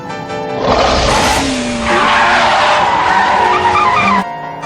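Tires squealing and skidding in a racing video game, a loud sustained screech with engine roar that swells, dips briefly and surges again before cutting off abruptly near the end.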